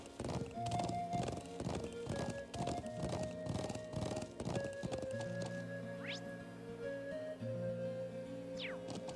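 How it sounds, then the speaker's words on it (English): Steady clip-clop of horse hooves trotting in the video game The Legend of Heroes: Trails of Cold Steel, loud and close, with music-like tones and a couple of short whooshes in the background. "Thankfully, it also teleported our horse here."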